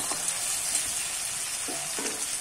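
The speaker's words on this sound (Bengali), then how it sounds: "এবার ভেজে রাখা মাছের কাঁটাগুলো কিন্তু আমি দিয়ে দেবো" Fried bhetki fish bones sizzling in a pan of cooked-down spice masala, a steady close hiss with a few soft stirring scrapes and no talking.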